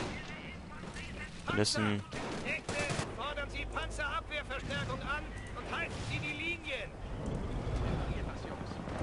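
Sniper and other gunfire sounds out in a Company of Heroes battle, sharp cracks and bursts mixed with game noise while someone talks over them in German.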